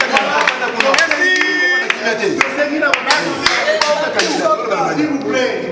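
A small group claps, with scattered sharp hand claps and a few voices mixed in nearby.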